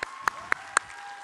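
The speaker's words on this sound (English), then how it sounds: "Come on, give him a round of applause." A few separate hand claps from a children's church program audience welcoming a pastor as game show host, three sharp isolated claps spaced about a quarter second apart, faint and sparse rather than full applause.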